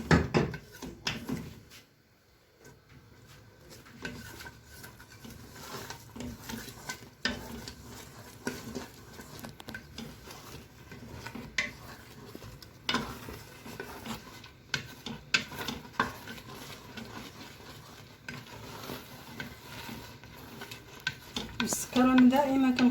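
A spoon scrapes and stirs onions in a pan for chicken and almond pastilla, with a continuous rasping sound and a soft sizzle underneath. The scraping carries steadily throughout, and nobody speaks.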